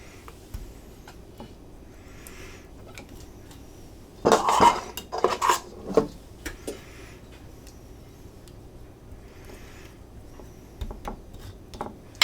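A small spoon spreads sauce onto corn for Mexican street corn, heard as a brief cluster of clinks and scrapes in the middle of an otherwise quiet stretch.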